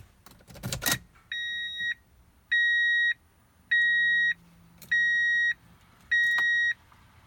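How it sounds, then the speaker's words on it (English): Five evenly spaced electronic beeps chime from the dashboard of a 2001 Toyota Tundra pickup truck, each about half a second long, after a brief rustling noise at the start. "please disregard that beeping sound"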